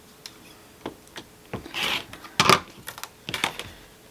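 Scattered short clicks and a brief slicing swish while a rotary cutter trims a fabric strip for a jelly roll quilt, quiet and close, with irregular taps of the ruler and tools and no talking.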